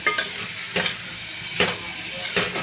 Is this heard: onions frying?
yes